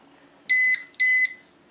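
Two short, even electronic beeps in quick succession from a LiteHawk High Roller RC quadcopter on startup, clear and alone against a faint background hum.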